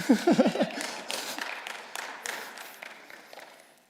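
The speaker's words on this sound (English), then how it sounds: "you're allowed to clap after these" Scattered applause from a small audience after a reading at a book launch, a short burst of claps that thins out and fades over a few seconds, following a brief voiced sound at the start.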